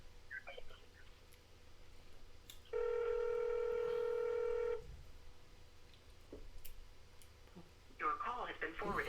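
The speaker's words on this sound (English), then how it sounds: "We're trying to get Pempe on the phone, y'all." Telephone keypad dialing tones sound as a call is placed, one steady loud tone block lasting about two seconds between stretches of quiet talk, with voices resuming afterward.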